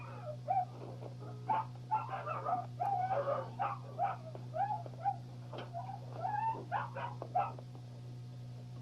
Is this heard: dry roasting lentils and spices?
no